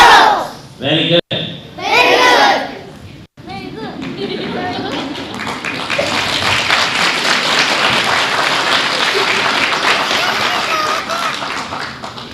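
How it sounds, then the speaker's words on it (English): A group of children at a summer camp finale speak together in unison, then break into loud, sustained clapping that fills the room and keeps going to the end. "They are clapping for you."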